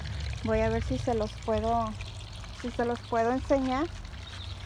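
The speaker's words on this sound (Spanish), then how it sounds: "Ahí está por a mero arriba y ahí cae el agua." Water spills from a raised black hose into a backyard fish pond, a steady low splashing under someone talking in Spanish throughout.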